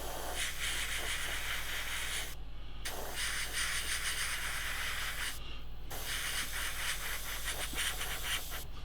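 An airbrush hisses in long steady bursts of spray while painting a 1/35 scale AH-6 Little Bird model kit, pausing briefly twice before resuming, close and continuous.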